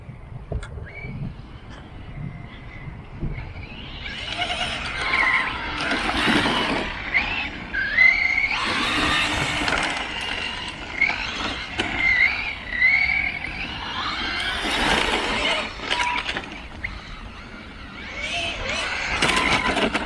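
A Reely Deathwatcher 6S RC car drifts on overheating tires, its whining motor and tire scrub rising and falling in repeated passes, near to mid-distance, with wind buffeting the microphone.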